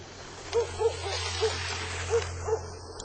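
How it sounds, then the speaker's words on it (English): Sled dogs in a snowy Arctic setting give several short, high yips and barks spaced across a few seconds over a steady low hum, moderately close with no talking. "A group of dogs pulled a sled,"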